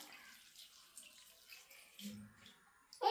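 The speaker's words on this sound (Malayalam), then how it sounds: "കുറച്ച് വെള്ളം കൂടെ ഒഴിക്കാൻ പോവാം" Water is poured into a cooking pot during masala dosa preparation, a faint, brief splashing trickle in a quiet kitchen with no talk.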